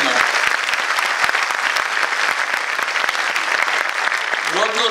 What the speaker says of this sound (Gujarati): એક જોરદાર તાળીનો રાઉન્ડ